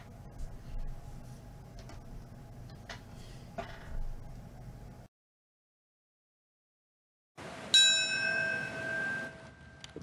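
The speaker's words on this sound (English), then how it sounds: "Bells tolled at New York's Ground Zero" Bells ring out at New York's Ground Zero on the 9/11 anniversary, a bright sustained tone with lingering overtones following a stretch of distant ambient noise and a short silence.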